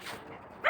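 A single short dog bark rings out at a dog park, moderately close, ending in a sharper yip with no talking.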